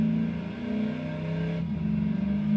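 Low-resolution General Lee car in a video game with a steady engine note, revving slightly and shifting pitch partway through, loud and continuous with no talking.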